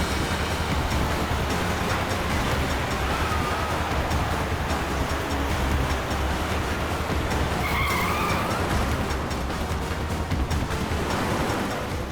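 A car driven recklessly in a police drama chase, with a continuous loud roar of engine and tires and a brief tire-skid squeal near the end, no talk.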